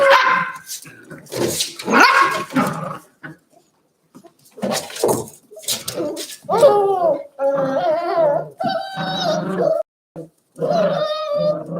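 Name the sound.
puppies barking while play fighting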